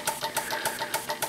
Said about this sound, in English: You can see the engine running now.